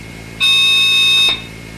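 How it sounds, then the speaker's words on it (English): A phone-phreaking test tone sounds as a single loud, steady electronic tone with bright harmonics, lasting just under a second and then cutting off cleanly, heard alone over low background hiss. "This is what a pink noise tone would sound like."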